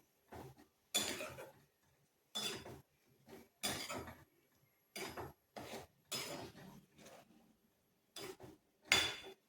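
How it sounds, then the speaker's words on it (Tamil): A spoon scrapes and clatters against a pan while ragi flour sweet mixture with banana is stirred, in a series of separate close strokes with quiet pauses between them. "நல்லா கிண்டி விடுவோம்."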